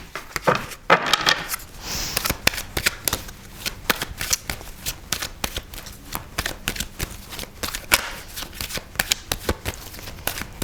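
Tarot cards are shuffled up close for about ten seconds, a steady run of quick papery flicks and riffles with short pauses between bursts and no voices.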